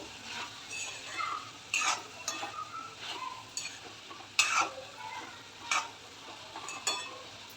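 Tondli (ivy gourd) vegetable is stirred in a pan with a spatula, making a series of distinct scraping and clinking strokes at irregular intervals over a faint, quiet sizzle.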